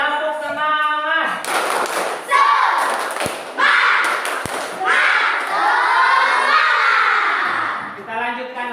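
A classroom of children performs a rhythmic clapping cheer, bursts of claps and shouted chanting in sharp rhythmic groups, loud and close, bracketed by an adult voice talking at the start and end.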